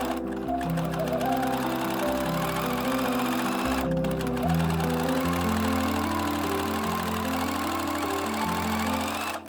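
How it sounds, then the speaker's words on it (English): Sewing machine stitching elastic onto a corset chemise, a loud continuous motor hum with rapid needle chatter that shifts pitch as the speed changes, running nearly without a break. "this is the stretch where I will be sewing on elastic while stretching it"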